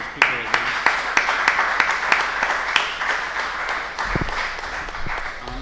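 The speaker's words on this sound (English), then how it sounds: "let's give a warm applause for the speaker again" Audience applause at a conference panel session on pre-normative research for standards: a moderate room of clapping with distinct individual claps audible, sustained for several seconds before tapering off, no speech over it.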